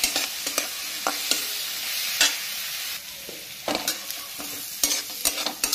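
Fried corn stirred with sauces in a pan, a steady sizzle broken by repeated scraping strokes of a spoon at an irregular rhythm, close up with no talk.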